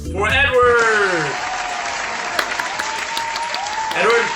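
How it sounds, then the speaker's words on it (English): Audience applause and cheering greet a contestant introduced at a fan challenge event, a steady broadband wash of clapping lasting several seconds, with voices calling out over it near the start. "Give you a round of applause for Edward!"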